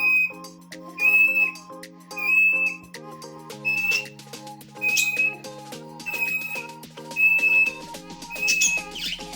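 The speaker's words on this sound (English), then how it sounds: "she's developed this very high-pitched, whiny, whistling sound" A cockatiel gives repeated high-pitched, whiny whistles in a steady rhythm of about eight short bursts over tonal background chirps, clear and fairly close, with no talking.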